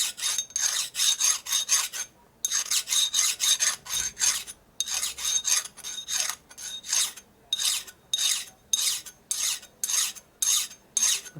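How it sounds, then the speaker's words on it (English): Dull hand file rasping a burr off a 1962 Harley-Davidson Panhead engine case part: rapid, regular back-and-forth scraping strokes in bursts with short pauses, close and clear with no talk. "Okay, get a dull file here."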